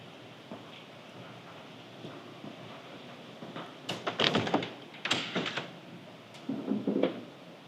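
Doors of a 1962 Rolls Royce Phantom V James Young limousine are handled nearby: latch clicks, clunks and rattles come in a few short clusters over a quiet room background.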